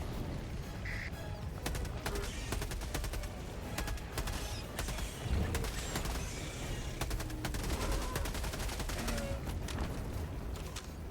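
Mortar and gunfire in a chaotic shooter video game battle, with rapid bursts of shots and booming impacts crowding a continuous din, scattered bangs rising over a busy background throughout.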